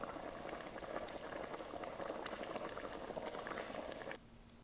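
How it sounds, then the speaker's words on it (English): Sauce boiling as a sound effect: a dense, steady bubbling and popping simmer that runs evenly, then cuts away abruptly to near quiet at the end. "we've got the sauce boiling there"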